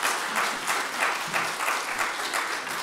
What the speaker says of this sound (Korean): 이제 강사님 나오셔서 말씀 전하실 때 여러분 박수로 환영해 주시기 바랍니다.